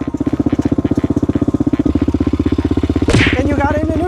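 A Honda 400EX ATV engine revs in first gear with a rapid, loud pulsing putter that rises as the throttle opens, close by, with a voice speaking over it near the end.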